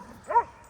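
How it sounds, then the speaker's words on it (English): A pet dog gives a single short yelp or bark, mid-distance and moderately loud, with quiet background before and after. "I have a couple dogs that are really afraid"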